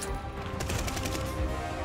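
Gunfire in the video game Call of Duty Vanguard, a dense, continuous rattle of rapid shots under a steady roar of battle noise.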